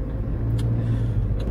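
A car drives along a road in Saudi Arabia, a steady, close interior rumble of engine and tyres with a faint tick or two, no voices.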